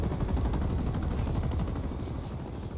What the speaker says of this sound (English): Now we're going to just wait for the helicopter to pass by before we continue on.